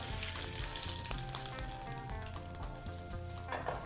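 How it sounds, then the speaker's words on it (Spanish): Papa rellena frying in a generous amount of oil, a loud continuous sizzle with constant crackle and bubbling, close by, with faint stirring or clinking sounds mixed in. "Cuando freímos con una cantidad interesante de aceite, no chupa tanto aceite como uno pensaría"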